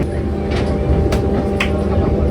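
A train pulls out of Haridwar station, a steady low rumble of rolling carriages with faint rhythmic clatter and a couple of brief higher squeals, close by and alone.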